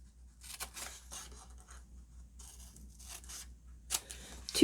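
Scissors cut through paper book pages in a few distinct, crisp snips separated by short quiet gaps, close up and alone.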